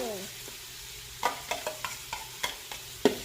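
Seasoning hits hot oil in a pan with a soft background sizzle, broken by a series of sharp clinks and scraping taps of a utensil against the pan, moderately close and fairly quiet.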